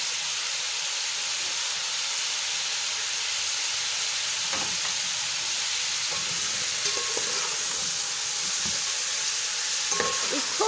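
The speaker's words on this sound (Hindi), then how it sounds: "अब मैं इसको सरसों के ऑयल में भूनूंगी" Desi chicken browning in mustard oil, a constant bright sizzle over about ten seconds with occasional soft clinks and scrapes of stirring late in the clip.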